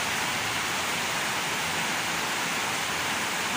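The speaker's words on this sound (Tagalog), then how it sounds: "Ayan, lakas na ulan." Heavy rain pours down near a house in a steady, dense roar of hiss and spatter. It is loud and unbroken, with no voices over it.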